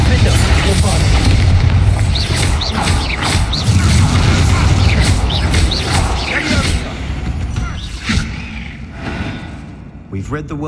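Bombarda spell blasts in the Hogwarts Legacy video game, a loud sustained rumbling boom with crashing debris and mechanical clatter, fading toward the end as a voice speaks over it.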